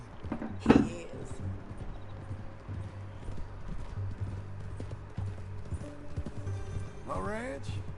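Horse hooves clip-clop steadily on the ground in Red Dead Redemption 2. A loud snort or whinny comes early and a second neigh near the end. Characters talk over the hoofbeats.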